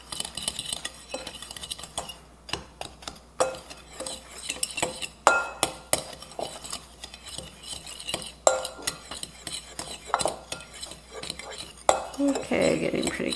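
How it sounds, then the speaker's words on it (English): A spoon mixes green tomatoes with flour, cinnamon, nutmeg and salt in a bowl, making irregular scraping and clinking strokes against the bowl in uneven bursts, fairly close and moderately loud, with no talk over it. "Now we add our green tomatoes. Just mix this really up well."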